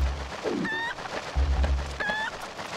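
A chicken in the Zelda Twilight Princess video game gives two short, bright clucks about a second apart. A low rumbling game background runs underneath.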